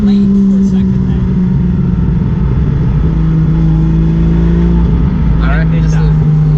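An RB30-powered R31 Skyline drift car engine idles with a rough, chattery note, a steady low drone running throughout with people talking over it.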